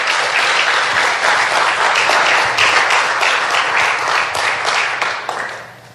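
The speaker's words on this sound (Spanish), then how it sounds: "Démosle un aplauso al Señor" A church congregation at Ministerios Ebenezer in Boston bursts into loud, sustained applause during a sermon, a thick wash of many hands clapping that tapers off at the end.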